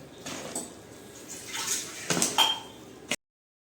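A utensil clinks and scrapes in a pan, mixing dry fruits into a laddu mixture with the gas turned off, in a few short, light clatters over a quiet background.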